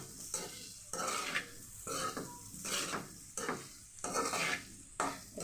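Chicken is stirred and mixed in a cooking pan, with repeated scraping strokes and metal clatter in a steady rhythm over a loud sizzle.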